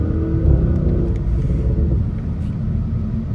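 A 555 hp Audi S6 pulls out of a corner on low-end torque, its engine a deep, steady rumble heard close from inside the car.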